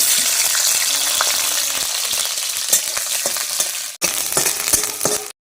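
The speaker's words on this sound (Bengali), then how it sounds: "তেলের মধ্যে আগে রসুনগুলো ভেজে দেব," Garlic frying in a small amount of mustard oil in a wok, a dense steady crackling sizzle with occasional clinks and stirring scrapes, close and loud, briefly cut off near the end.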